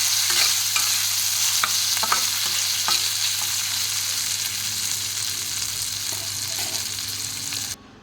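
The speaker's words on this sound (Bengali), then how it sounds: "আদা রসুনটা দিয়ে ভালো করে আমি এটাকে ভেজে নেব" Onion with ginger-garlic paste sizzles in a pan while a spoon stirs it, giving a constant close frying hiss punctuated by sharp scraping strokes, ending abruptly; no talking.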